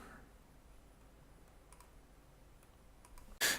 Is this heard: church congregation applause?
no